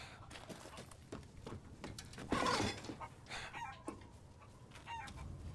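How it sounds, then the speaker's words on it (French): A chicken in Resident Evil Village clucks and squawks in short bursts with one louder cackle near the middle, moderately close, amid faint background ambience. "J'ai entendu une poule!"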